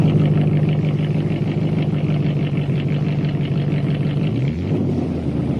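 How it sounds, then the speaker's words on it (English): Car engine idling with oil treated with STP additive, a steady low rumbling hum heard close and fairly loud, running smoothly for several seconds before the pitch dips near the end. "Listen to that engine idle."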